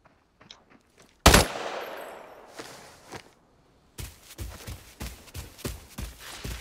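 Bursts of video game gunfire, one loud blast followed by rapid rhythmic volleys of shots from a sniper scout match, with footstep-like thumps between, close and punchy with no talk.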